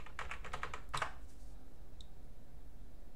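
A short burst of quick clicking keystrokes on a computer keyboard as a password is entered on a Manjaro Linux machine, ending with one firmer key press, followed by a faint single click and quiet room tone.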